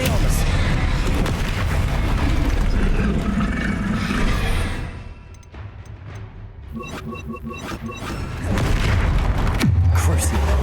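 Booming spell explosions from Bombarda and Confringo in Hogwarts Legacy during a fight with a troll, heavy, loud blasts layered with combat noise, a brief quieter lull, then renewed rumbling impacts.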